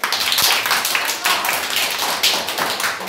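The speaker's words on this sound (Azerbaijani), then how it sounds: "Alqış." Applause breaks out for a quiz winner at a classroom quiz, a steady patter of many hands clapping for about three seconds with no talking over it.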